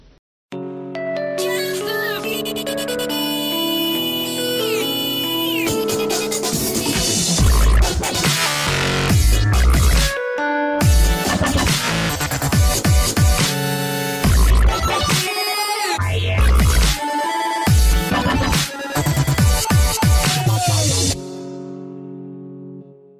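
A Nokia dubstep ringtone plays loud and close for over twenty seconds, a dense electronic track with a melodic tone pattern, heavy bass drops and brief gaps before it cuts off.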